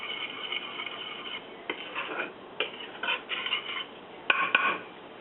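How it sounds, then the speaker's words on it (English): Ingredients being mixed in a bowl, with scraping, clinking stirring strokes that come in uneven bursts, close and moderately loud, with no voices. "So just mix this up real good."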